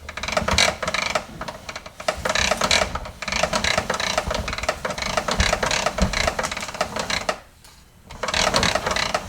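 A retractable extension cord reel winds its cord back in with a continuous ratcheting, clattering whir that runs for several seconds, dips briefly near the end, then picks up again.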